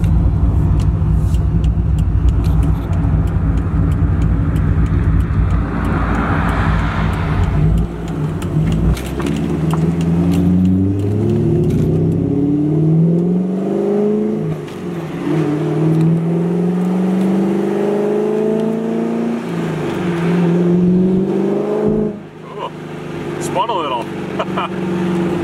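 A car engine drones loudly, then climbs through rising revs as it accelerates through the gears, with someone talking over it.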